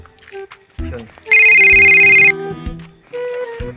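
A phone ringtone sounds loudly for about a second as a bright electronic trill, with people talking around it before and after in an indoor scene.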